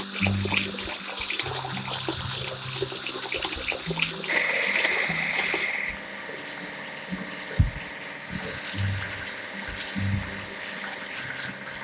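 Water splashes and runs while washing a dump truck in a kids' cartoon, busy spraying and gurgling with a brief bright tone and a few thumps, then a quieter trickle.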